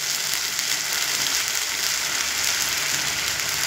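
Spice paste with turmeric and water frying in oil in a pan, a steady, dense sizzle holding evenly at close range with no voices over it.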